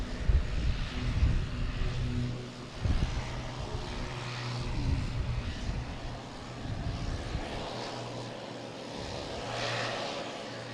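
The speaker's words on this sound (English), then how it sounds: "We do have a ABX air freight coming in" ABX Air freight plane arriving from Baltimore at Boston Logan Airport, a steady mid-distance engine drone with low hum tones that swell and fade across the clip, no voices.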